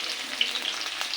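Onion pieces, curry leaves and slit green chillies frying in hot oil for brinjal peanut curry, a dense close crackling sizzle with tiny pops throughout the short moment.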